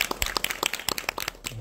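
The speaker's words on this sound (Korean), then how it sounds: "그래도 큰 박수로 좀 부탁드립니다" Clapping from an audience welcoming actor Kwon Hae-hyo at a Seoul cinema talk event, a short burst of distinct, fairly close hand claps of uneven rhythm that fades after about a second and a half.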